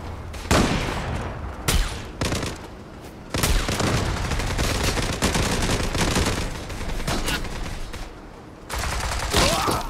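Gunfire in the video game Zula: repeated sharp bursts of automatic shots and single cracks, loud and close, in uneven clusters.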